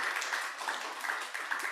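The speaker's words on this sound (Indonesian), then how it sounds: "Nah, tepuk tangan semuanya." A church congregation claps together after a call for applause, a fairly faint, uneven patter of many hands with soft accents, heard without talk over it.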